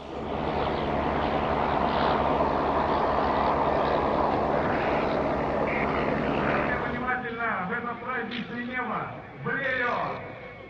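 A 1908 Tulin-A Blériot monoplane with a 7-cylinder Gnome Omega 50 horsepower rotary engine flies past, a loud continuous buzzing drone that thins into a wavering, pulsing tone as it moves off.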